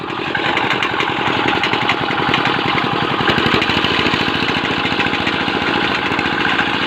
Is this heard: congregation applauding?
no